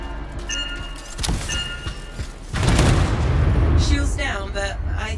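A burst of booming blasts and crackling detonations in the video game Anthem, loud and close, followed by a sustained rumbling roar and a few fainter bursts.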